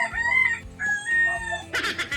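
A rooster crows nearby, a drawn-out cock-a-doodle-doo with hens clucking around it in the background.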